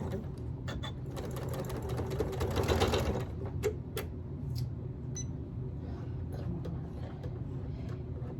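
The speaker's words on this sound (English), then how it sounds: "Go ahead and sew those down." Sewing machine stitching quilt pieces together, a quiet rapid mechanical whir in short bursts with brief pauses, heard close under faint background talk.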